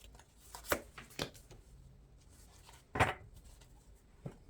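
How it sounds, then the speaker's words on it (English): A thick deck of tarot cards is overhand shuffled in a few separate soft riffling bursts with quiet gaps between them, close and fairly faint. "This deck is pretty thick for me to overhand shuffle."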